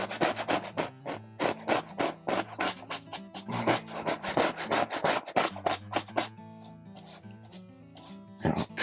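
Oil paint in Prussian blue thinned with linseed oil is scrubbed hard into canvas over black gesso, a close, loud rhythm of rapid bristly brush strokes that slows and thins near the end before one last burst.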